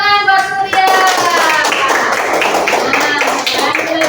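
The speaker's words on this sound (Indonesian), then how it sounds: "Tepuk tangan buat Surya." A classroom of primary-school pupils claps for a classmate who answered correctly, a brief burst of many hands tapping fast and close over a few seconds, with children's voices mixed in.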